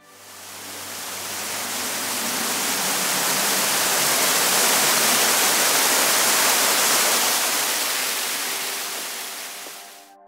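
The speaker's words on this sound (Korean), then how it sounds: "대둔산 남쪽의 위봉폭포, 60m를 낙하하는 2단의 물줄기는 이곳이 범상치 않은 곳임을 짐작케 한다" Wibong Falls, a two-tier waterfall dropping 60 m south of Daedunsan, gives a dense, steady roar of falling water that swells in and fades out, loud and uninterrupted, with no voices.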